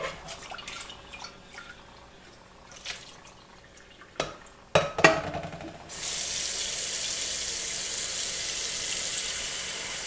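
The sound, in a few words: water filling a cooking pot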